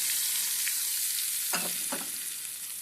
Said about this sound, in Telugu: పచ్చళ్ళలోకి పోపు వేసేయండి